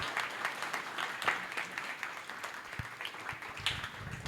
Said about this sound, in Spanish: les pido porfa un fuerte aplauso a los dos invitados